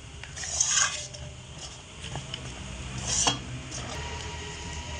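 Flour for roti dough being stirred in a pan over low heat, giving soft scraping and rubbing strokes with a couple of brighter utensil scrapes against the metal, close and fairly quiet, with no talking.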